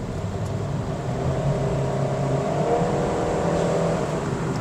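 A 2024 Honda Brio RS engine revs around 4,000 RPM, heard from inside the cabin as a steady, fairly muffled drone with a slowly rising pitch.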